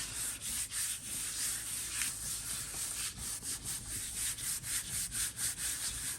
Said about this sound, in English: I'm just gonna rub it all in as much as we can.